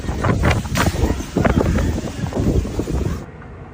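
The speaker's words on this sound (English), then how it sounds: "In many areas, wind gusts reached level 12 on the Beaufort scale, indicating extremely dangerous conditions." Loud, blustery wind of Beaufort force 12 roars and buffets the microphone in uneven gusts, rumbling heavily in the low end before dropping off abruptly near the end.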